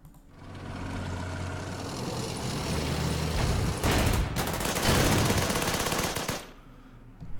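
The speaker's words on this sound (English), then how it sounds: "Let's see if we can't get some shots with our artillery on these guys." Battle in the World War II strategy video game Strategic Command WW2, with artillery firing: a loud, sustained roar of gunfire and rumbling blasts that swells midway and then cuts off.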